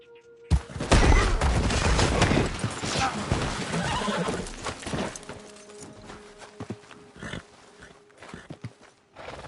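A horse in the Red Dead Redemption 2 video game gallops and neighs loudly up close, with rapid hoof clip-clops and scattered sharp impacts that thin out toward the end.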